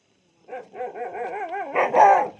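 A dog lets out a run of wavering, yelping barks and whines that build louder toward the end, close and clear with no talking.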